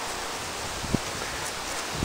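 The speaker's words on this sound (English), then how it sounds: "Windy over on one side." Steady wind rustles through leaves at a lakeside park, a soft continuous hiss with no voices.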